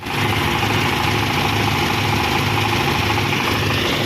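A diesel generator engine running at a steady, loud drone with a constant low rumble and no break or change over the few seconds.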